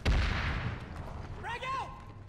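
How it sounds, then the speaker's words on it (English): Gunfire in the PlanetSide 2 video game: one sharp, loud shot at the start that decays into a rumbling tail, followed by a short shouted voice. "Stop shooting! Same team!"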